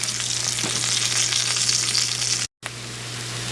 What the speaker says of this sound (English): Yeah, we get the old onions in there. Stir them around.